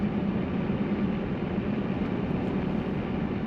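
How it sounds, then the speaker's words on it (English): Steady low rumble of tires on pavement heard from inside a 2000 Toyota Land Cruiser with slightly cupped tires, a constant broadband road drone with no voices. "You can hear the tires. There's a little bit of cupping on those tires"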